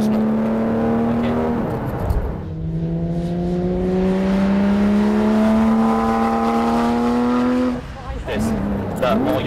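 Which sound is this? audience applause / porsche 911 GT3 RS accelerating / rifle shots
porsche 911 GT3 RS accelerating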